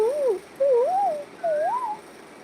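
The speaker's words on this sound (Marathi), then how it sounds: "कोकिळ कुहू कुहू गाते." An Asian koel calls in a Konkan village, three rising, wavering whistled phrases spaced about half a second apart, clear and moderately near over a quiet background.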